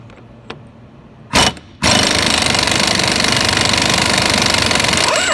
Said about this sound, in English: then you're ready to rip this nut off and take the yoke off of the shaft